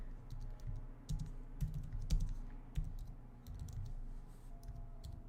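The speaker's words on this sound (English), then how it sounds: "Yes, perfect typing, Brandon." Rapid clacking keystrokes on a computer keyboard, close and fairly quiet, with steady irregular bursts of clicks over a low room hum and no talking.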